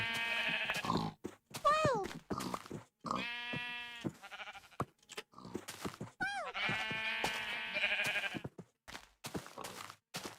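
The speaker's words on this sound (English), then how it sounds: "There are a few sheep over here, which we're gonna shoot." Sheep in a modded Minecraft game bleat repeatedly, several wavering calls close up in quick succession with short grunts between them, loud and clear with no talking over them.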